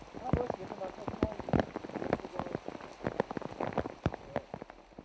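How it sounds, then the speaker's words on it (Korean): Rain falls on Huangshan mountain in China, with dense, irregular patters and drops spattering close by, some louder splashes standing out against a steady wash, and voices faintly mixed in. "첫째 날, 황산에는 비가 내리고 있었다"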